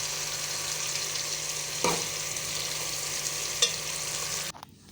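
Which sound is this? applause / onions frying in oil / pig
onions frying in oil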